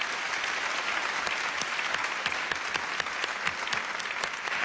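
A studio audience claps warmly and steadily to welcome Muhammad Samie, a dense, even wash of applause with no voices over it.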